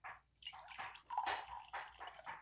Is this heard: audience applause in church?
no